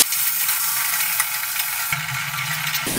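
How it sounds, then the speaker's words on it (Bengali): Salted, turmeric-coated potatoes cut into long strips fry in hot oil, giving a steady, close sizzle with faint stirring clatter throughout, alone without voices. "আলুগুলো ভেজে নেব।"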